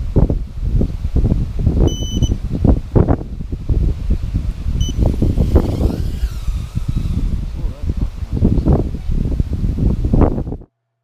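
Strong gusty wind buffets the microphone in rumbling bursts while a brushless micro quadcopter flies, with a few faint electronic beeps and its whirring motor in the background.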